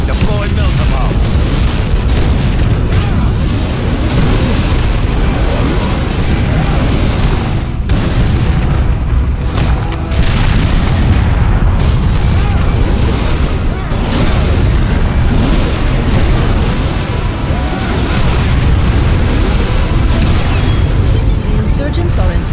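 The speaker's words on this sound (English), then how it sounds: "Deploy Milta bombs." Melta bombs explode in the battle game Dawn of War II, a run of deep booms and bursts rolling over dense combat noise with voices heard throughout.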